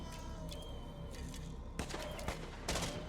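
Automatic guns fire in a zombie survival video game, heard as a distant, muffled fusillade of crackling bursts over a steady low rumble, with a few sharper volleys near the end.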